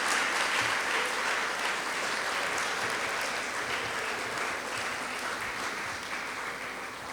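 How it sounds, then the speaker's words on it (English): An audience applauds Teaneck High School singers at a historic marker unveiling ceremony, with a steady, even clapping that carries on without a break. "So please give them a round of applause."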